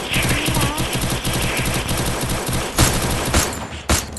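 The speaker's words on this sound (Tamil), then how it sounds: "எத்தனை சுடுறது? புல்லட் வீணா போகுதுடா." Rapid automatic gunfire from the mobile battle royale game Free Fire, loud and continuous bursts with a few sharper single shots near the end, no talk over it.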